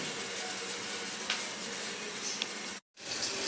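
Onions and green chilies frying in hot oil, a steady close sizzle with faint clinks of stirring, broken by a brief moment of silence near the end.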